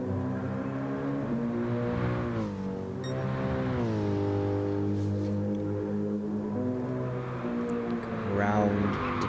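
Race car engine on board at Goodwood during a GTEC race, droning loud and steady as the revs fall and rise through a clean, short downshift in mid-corner, with faint commentary underneath.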